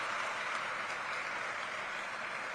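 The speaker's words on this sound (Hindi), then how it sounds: "एक बार जोरदार तालियों के साथ आप उनका स्वागत और अभिनंदन करें" Applause welcoming a guest at an NFSU event in Chhattisgarh, a dense, even wash of many hands clapping that sounds somewhat distant and holds steady for the whole short stretch.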